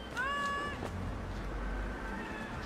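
A cat meows in the game Ico, one clear drawn-out meow followed by fainter mewing over a low hum, with no talk.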